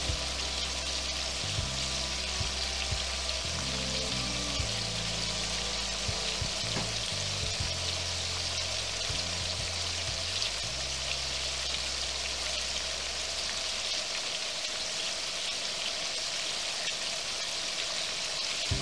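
Garlic shrimp sizzling in a pan for a Spanish dish, with a continuous close crackling fry that runs for the whole stretch, a low hum under it in the first part, and nobody speaking.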